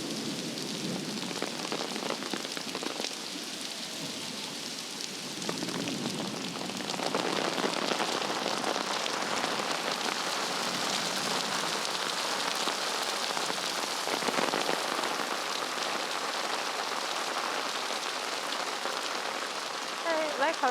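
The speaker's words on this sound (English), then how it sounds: "such heavy rain." Heavy rain falling in Geylang, Singapore, a steady dense hiss of drops on surfaces close by, continuous and fairly loud throughout with no talking.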